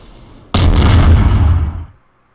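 A single huge blast from a Garry's Mod game, with Star Wars and Halo weapons and an anti-air vehicle in play, hits suddenly and loud, then rumbles and decays over about a second and a half before cutting to near silence.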